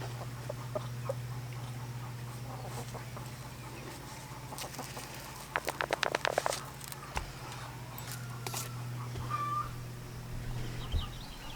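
Garden chickens cluck at middling distance, with a short burst of clucking in the middle and scattered calls elsewhere, all over a steady low hum.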